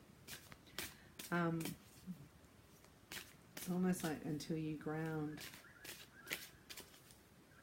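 Tarot cards being shuffled by hand during a reading, a soft papery riffling and flicking that recurs through the clip beneath a voice speaking at intervals.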